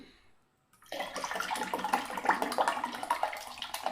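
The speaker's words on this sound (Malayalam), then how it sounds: "നമ്മൾ ഐസ് വാട്ടറും കൂടെ ഒഴിച്ചു കൊടുക്കുന്നുണ്ട്." Ice water poured into a lemon juice drink, a steady splashing stream that starts abruptly after a short silence and runs on continuously, close and fairly quiet.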